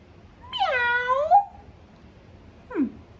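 A person voices a drawn-out imitation of a cat's meow while reading a picture-book story aloud, followed by a short, quieter mewing sound, both clear and close in an otherwise quiet room.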